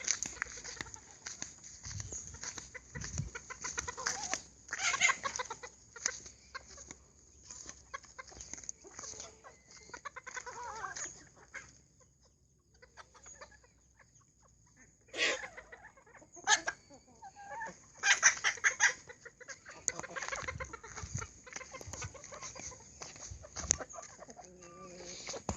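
Chickens cluck in short, scattered bursts on a small poultry farm, some near and some farther off, with a faint crow-like call among them. A person talks quietly at times between the clucks.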